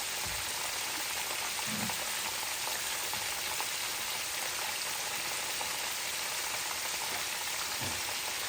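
Red snapper fish frying in a pan gives a steady, even sizzle with faint crackles and no other sounds.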